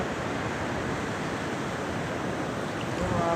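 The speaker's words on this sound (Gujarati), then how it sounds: "પાણી પાણી જાય છે એ પાણી ચાલુ છે" The Malan river in flood, flowing over its banks: a steady, close rush of water with an even roar throughout and no pauses.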